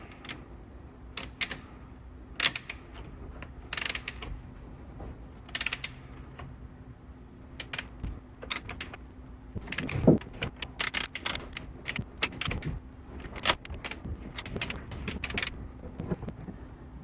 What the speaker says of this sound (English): it would take me forever with the torque wrench to get these tight